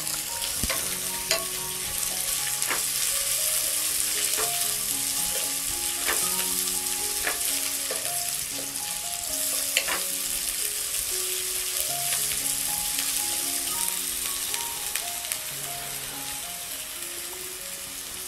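Onions with pandan, curry leaves, cinnamon bark and green chillies frying in oil in a village kitchen, a dense continuous sizzle with scattered spoon clinks and taps against the pot throughout.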